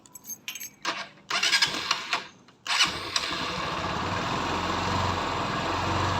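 A motorcycle engine is held at high RPM after a few clinks and rustles, then settles into a steady, buzzing drone that continues to the end, fairly close and alone with no talk.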